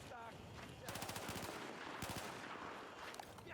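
Automatic gunfire in Battlefield 4 on PS4: rapid, loud bursts of rattling shots, several separate volleys in quick succession against steady game background noise.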